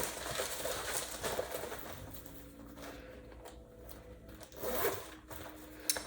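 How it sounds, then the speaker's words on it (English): A zipper on a hand-sewn fabric project bag rasps open and closed in several short pulls, close and fairly quiet, with a louder pull near the end. "I did have a little bit of issue with the zipper sticking"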